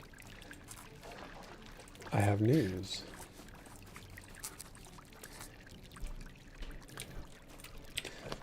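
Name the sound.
babbling brook water in video game Embers Adrift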